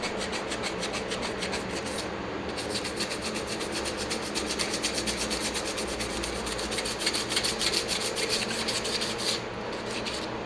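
Steady, close rasping scrub of sanding on the painted metal of a 1966 Ford Galaxie 500 convertible, continuous rhythmic strokes with no talk.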